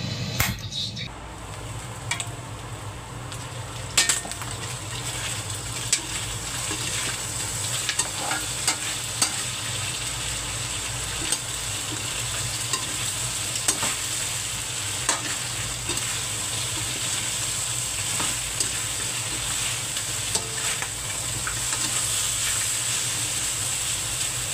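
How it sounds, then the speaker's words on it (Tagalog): Native chicken adobo with lemongrass cooks in a covered pot, a continuous sizzling, bubbling hiss punctuated by occasional sharp pops and clicks, close and steady throughout without any talking. "Takpan natin to, pakuluan natin hanggang lumambot."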